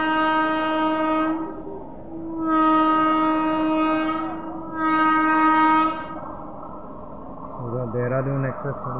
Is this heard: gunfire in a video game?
no